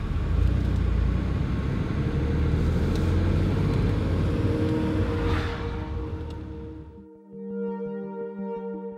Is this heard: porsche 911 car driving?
yes